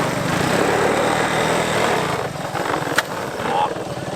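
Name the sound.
old three-wheeler engine revving in the snow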